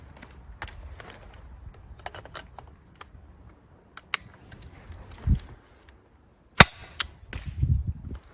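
Airsoft shotgun firing a Vog-25P APS CO2 smart shotgun shell adapter, shot at a range of about 25 meters: a single loud sharp crack near the end, with faint clicks and handling noises before it.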